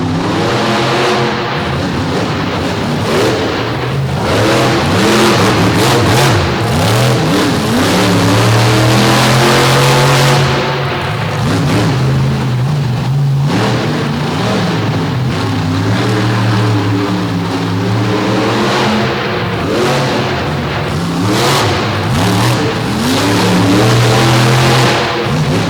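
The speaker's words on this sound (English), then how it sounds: "Looking good here as he powers the front end up" A monster truck engine at a MOD DuQuoin show roars and revs hard as the truck lifts its front end over race lanes, a loud sustained bellow rising and falling in pitch over about twenty-five seconds.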